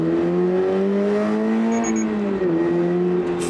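A Subaru BRZ or Toyota GR86 with the FA24 engine and an aftermarket exhaust drones loud and close on a dyno, holding a steady note with slight pitch shifts.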